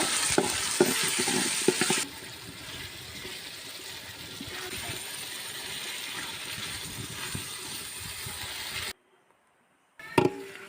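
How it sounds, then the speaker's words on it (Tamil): Tomatoes and onions sauté in a pan for a Tamil fish curry, a steady close sizzle with scattered stirring clatter, louder for the first two seconds, then cutting to silence near the end before a brief sharp knock. "மூணுலேருந்து நாலு தக்காளியை கட் பண்ணி சேர்த்துட்டு அதையும் நல்லா வதக்கிக்கலாங்க"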